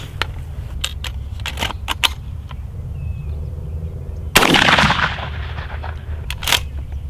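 A shotgun firing a cut shell outdoors near a levee: one loud, sharp blast with a lingering rumble, preceded by several brief clicks and handling sounds, with no talk.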